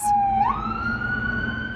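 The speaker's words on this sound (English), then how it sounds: "Sirens blared through the streets of Las Vegas" A loud wailing emergency vehicle siren in the streets of Las Vegas rises in pitch and holds a steady tone, close and prominent over low traffic rumble.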